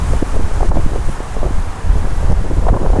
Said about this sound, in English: well, it's going to be a little bit windy